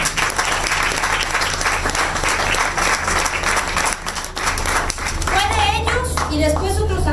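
A crowd at a Claudia Sheinbaum political rally in Cuajimalpa bursts into loud, steady applause and keeps it going throughout, with voices, including a child's, rising over the clapping near the end.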